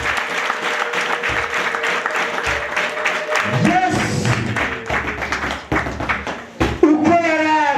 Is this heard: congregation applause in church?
yes